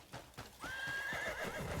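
A horse whinnies in a video game, a loud drawn-out neigh that follows a few clopping hoofbeats.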